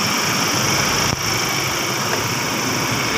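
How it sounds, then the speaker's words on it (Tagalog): A 2023 Ford Raptor engine idles steadily at close range, a loud, even hum with high-pitched whine and no speech. "pinapandar muna natin ng 3 to 5 minutes para sa kanyang flashing oil bago natin patayin."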